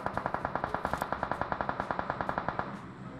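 Rapid automatic gunfire from a video game, a steady stream of about thirty closely spaced shots over roughly three seconds, loud and close, with no talking.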